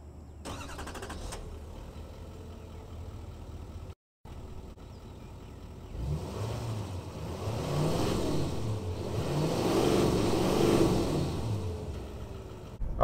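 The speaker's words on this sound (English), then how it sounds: "Starting out, we'll get that nice, healthy Duramax, that nice, healthy diesel sound." 2018 Chevrolet Silverado 2500HD with the Duramax diesel engine pulling away and accelerating, a deep low rumble that builds and swells in loudness over several seconds, close and heard alone without talk.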